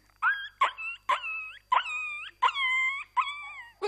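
A human voice imitates a dog howling and whimpering in a series of about seven short, wailing yelps, each rising then falling, fairly close and alone.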